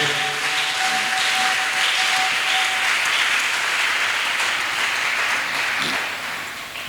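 A church congregation at a Sunday service claps in sustained, dense applause that holds steady and then tapers slightly near the end, with a brief tonal hum early on and no speech.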